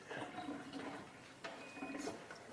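Water streams steadily from an Alive Water ionizer with a hissing, splashing flow at moderate level, alone and without a break.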